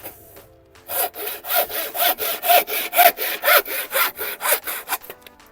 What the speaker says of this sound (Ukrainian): О, нормальна пилка